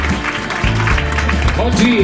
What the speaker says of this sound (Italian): Lo facciamo un applauso anche ai camerieri, fantastici.